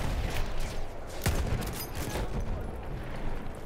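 Rifle gunfire crackles in the video game Battlefield 1 multiplayer, a dense barrage of shots and booms over continuous battle noise, with no clear pauses.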